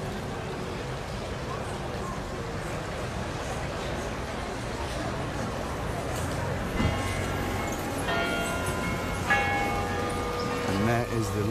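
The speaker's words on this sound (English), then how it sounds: "Is the lovely bells of the Vestibule." Church bells of the Westerkerk ring out along Prinsengracht in Amsterdam's Jordaan, bright chimes sounding in the distance over steady street and canal ambience.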